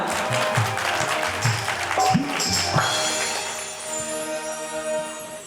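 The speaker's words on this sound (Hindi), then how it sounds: "इसके पहले जोरदार हनुमान जी के लिए तालियां हों।" Loud, dense applause from a crowd, sustained steadily throughout with a few scattered voices mixed in.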